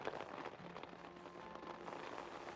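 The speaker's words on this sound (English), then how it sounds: "Ah, it's a rainy day." Steady rain falls in the video game Infinity Nikki, a soft, constant patter of drops on surfaces, faint and even with no voices over it.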